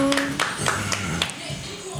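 A few scattered hand claps greet a guest's entrance in a podcast studio. The sharp, sparse claps mix with voices and background sound.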